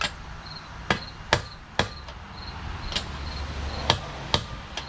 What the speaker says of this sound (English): We give it a couple extra hammer blows just to verify that we're not making any further progress on this.